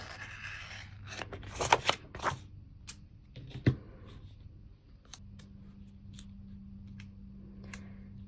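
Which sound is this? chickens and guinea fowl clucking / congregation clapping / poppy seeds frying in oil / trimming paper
trimming paper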